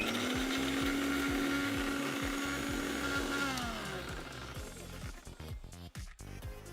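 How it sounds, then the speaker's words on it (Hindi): A Maharaja Whiteline Joy Plus mixer grinder whirring loudly as it grinds green chillies into paste, its motor pitch gradually dropping before slowing and winding down with rattles near the end. "मैं अपनी ब्यूटीफुल महाराजा व्हाइट लाइन जॉय प्लस में इन हरी मिर्चों का पेस्ट बनाता हूँ"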